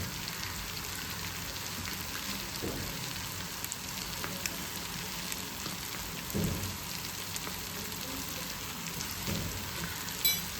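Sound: boti frying in a pan

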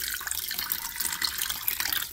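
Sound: purified water being poured into a pot

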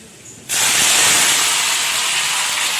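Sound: fenugreek seeds sizzling in hot oil

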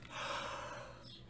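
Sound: yawn

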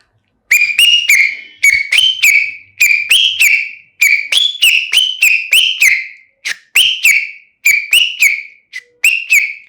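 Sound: whistled imitation of vehicle reversing beeper

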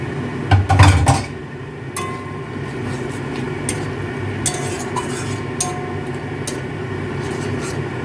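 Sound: stirring and frying spice paste in pan

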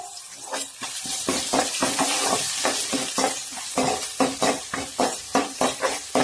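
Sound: sautéing dried red chillies and ginger in a pan

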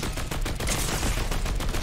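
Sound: dual pistols firing in video game Fortnite

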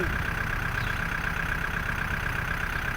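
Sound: tractor engine idling while stuck in mud

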